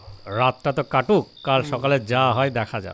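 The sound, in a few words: crickets chirping at night, audio story effect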